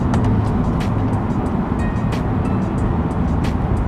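A Mercedes E55 AMG sedan's supercharged engine pulls hard under acceleration, a loud, steady roar with rising tone heard up close from inside the car, continuous and without talk.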